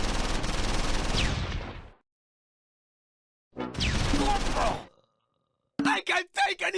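Heavy gunfire in the video game Close Combat 4 during a Battle of the Bulge fight: a long dense roar of shots, a pause, another sustained burst, then several short choppy bursts, loud and close with no talk.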